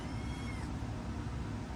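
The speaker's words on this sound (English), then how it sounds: "I'm sure you do hear the kittens in the background meowing away." Eight-week-old rescued kittens meow faintly in the background, a quiet, steady mewing under a low room hum.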